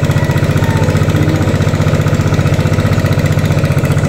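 Farm machine engine running steadily in a rice paddy, a loud, continuous idling drone with a regular low throb close by, with no voices over it.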